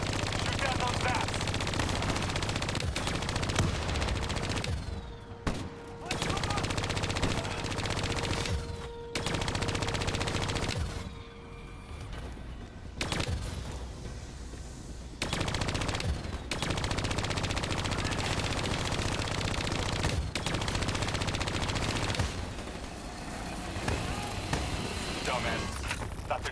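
Sustained automatic gunfire rattles almost without pause as a player shoots at vats in the Black Ops 3 campaign, with loud bursts broken only by brief gaps.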